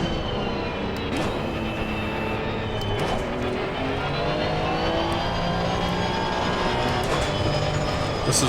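Porsche race car lapping in the Assetto Corsa Competizione game, with a continuous loud engine whine that rises and falls through gear changes and holds steady with no voices.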